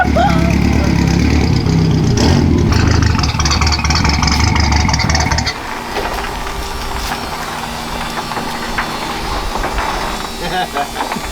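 The engine of a turbocharged Chevy LUV truck roars loudly at close range before dropping to a rougher, quieter running note, with people talking over it.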